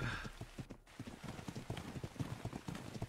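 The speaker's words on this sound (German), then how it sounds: "Aber es ist cool, mal wieder Pferde." Horse hooves clip-clop in the video game ARK, a steady run of rhythmic, fairly close hoof beats continuing throughout with a soft ambient background and no speech.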